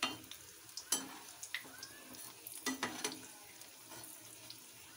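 Bread frying in oil in a pan over a medium gas flame, a faint sizzle broken by soft clinks and scraping taps as the slices are turned, without talk.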